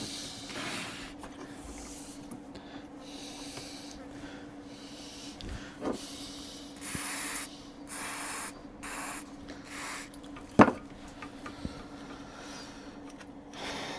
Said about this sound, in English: These fellas, well, they're supposed to be sealed, but you can get some contact cleaner into them.